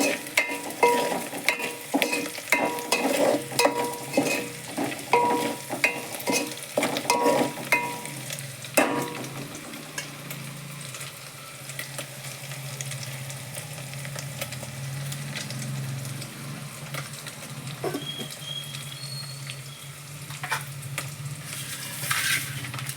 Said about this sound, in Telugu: ఇప్పుడు తాలింపు మంచిగా వేగింది, చాలా బాగా వేగింది తాలింపు.